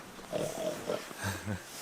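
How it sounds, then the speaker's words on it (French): Pigs grunt on a farm in a few short, close oinks that come in quick bursts. "Voilà les cochons."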